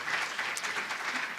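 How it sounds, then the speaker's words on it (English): A conference audience at a RecSys 2014 industry session claps steadily for an incoming speaker, with dense, even applause throughout and no distinct voices. "Please give the speaker a very big round of applause."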